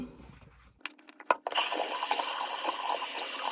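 A bathroom sink tap clicks and squeaks open, then water gushes steadily and close for face washing, a bright continuous hiss that runs to the end.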